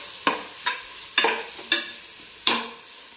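Spoon stirring onions as they fry in oil for a mutton gravy, five sharp scraping strokes spaced about half a second apart, close and fairly quiet, with a soft sizzle between them and no voices.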